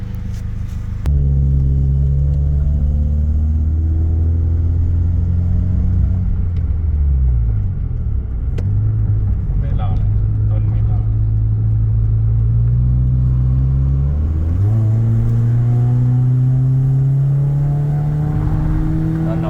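A remapped Toyota Yaris 1.5 with an automatic gearbox accelerates hard on a test drive, its engine note climbing through several upshifts with a steady droning rumble from inside the cabin.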